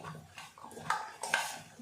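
A spoon clinks and scrapes against a bowl while stirring instant mango pickle, giving a few short, close metallic taps over a quiet background.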